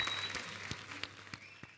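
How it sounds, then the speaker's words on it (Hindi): Applause from a comedy show studio audience, a short burst of claps with a few louder individual claps standing out, moderately loud and fading slightly over under two seconds. "तो एक बार जोरदार तालियां हो जाए मिसिस बंसाली के लिए।"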